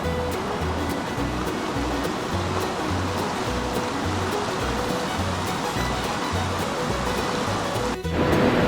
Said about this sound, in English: As you can see here, the river's just raging